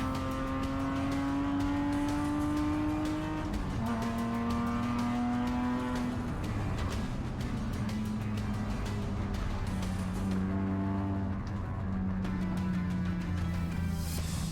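A car named Goldie laps the Amaroo race track with a loud, close engine that revs up steadily through each gear. The pitch drops sharply at every shift, and the engine hums without a break throughout.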